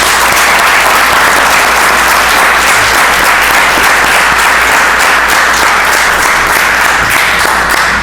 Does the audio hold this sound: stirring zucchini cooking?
no